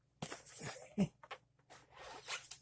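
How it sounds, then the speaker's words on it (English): A blade slices through packing tape on a cardboard box in a few quick, close zipping strokes and scrapes, fairly quiet with short pauses between pulls. "let's cut the tape loose there"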